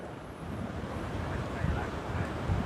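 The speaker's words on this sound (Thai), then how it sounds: "ลมพัด" Wind gusts rumble steadily against a microphone outdoors, with a low buffeting roar throughout and faint voices underneath.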